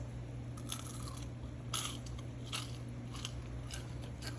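Crisp, close crunching of air-fried french fries in several sharp bites, over a steady low background hum.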